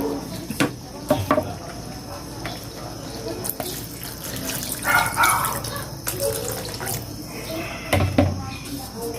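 About two cups of water are poured into a cooking pot for chicken ala kampana, a close splashing stream with uneven surges and a few sharp knocks of kitchenware in between.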